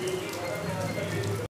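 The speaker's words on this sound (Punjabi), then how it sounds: "ਹੁਣ ਪੂਰਾ ਜ਼ੋਰ ਨਾਲ ਮੀਂਹ ਪੈ ਰਿਹਾ ਹੈਗਾ" Heavy rain pouring down during a spell of bad weather: a constant, dense patter and hiss close by, with a faint murmur of voices or hum beneath, cutting off abruptly at the end.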